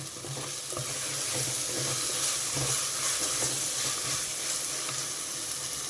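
Leafy greens fry for a pulao in a pan, giving a steady, dense sizzle that holds close and even throughout, with faint stirring scrapes underneath.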